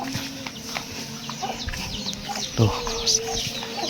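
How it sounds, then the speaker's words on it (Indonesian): Chickens cluck and call around a remote traditional village house with no neighbours, a few short calls standing out over steady rural background noise, with a brief spoken word near the start. "Tuh banyak ayam juga teman-teman ya"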